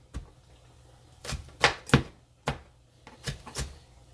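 A knife dices vegetables for a potato casserole, giving about eight sharp, separate chops on a board in uneven pairs, close by and fairly quiet against a still room.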